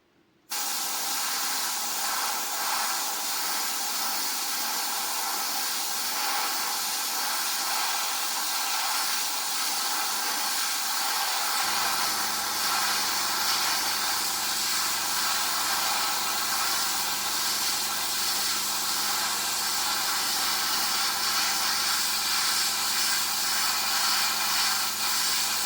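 A spray gun hisses steadily while laying grey paint onto a test spoon during Corvette C8 paintwork, a loud continuous airy spray running for over twenty seconds after a brief start, with no talking.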